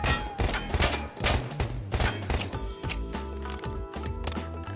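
Vector submachine gun from the Timeless and Classics Guns mod in Minecraft firing repeated loud close bursts of rapid shots, followed by a mechanical handling or reload clatter.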